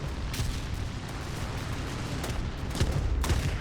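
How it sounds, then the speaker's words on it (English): Anti-aircraft fire in War Thunder rattles against a Ki-10 biplane, a dense stream of crackling bursts and thuds over a steady engine rumble, with a few sharper hits standing out. "the AA's just shot me"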